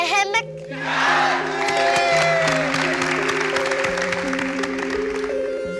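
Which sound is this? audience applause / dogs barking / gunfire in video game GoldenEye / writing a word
audience applause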